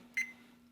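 A single short electronic beep from a timer being set during pressure canning rings out once, faint and clear, over a low steady hum.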